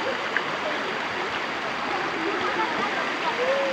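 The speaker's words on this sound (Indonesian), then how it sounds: "Sungai yang berada di daerah Tukum ya." River stream flowing in the Tukum area of Wonosalam, Jombang, a steady broadband rush of water that is loud and continuous, with faint voices in the background.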